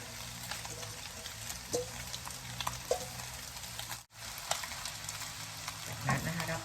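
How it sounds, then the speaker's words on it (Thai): Pad thai noodles fry in a pan with a steady, moderately loud sizzle and crackle, broken by scattered stirring clatters and a brief dip in the hiss partway through. "เรียบร้อยก็โรยเส้นลงเลยนะคะ"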